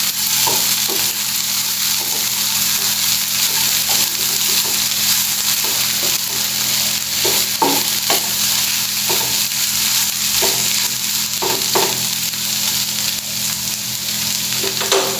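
Beef croquette mixture frying and being stirred in a pan, a continuous loud sizzle with irregular scraping and clacking strokes throughout, no talking.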